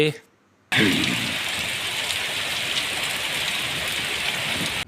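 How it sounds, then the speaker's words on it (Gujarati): Heavy monsoon rain pours down steadily on farm fields, a loud, dense hiss that starts abruptly after a short quiet moment and continues without letup. "આજે તમે જોઈ રહ્યા છો વરસાદની કેવી ધુવાધાર એન્ટ્રી પડી રહી છે"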